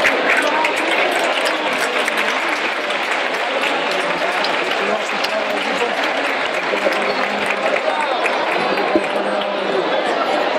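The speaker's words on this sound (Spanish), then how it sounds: "Un aplauso." Sustained, dense audience applause at a Málaga romería gathering marking a fifth anniversary, loud and even for about ten seconds, with crowd chatter blended into the clapping.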